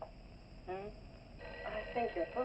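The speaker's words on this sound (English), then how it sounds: "I think your phone is ringing" An old telephone rings in an office scene from a 1959 film, short bursts of bright, buzzing tone repeating several times against a quiet room background.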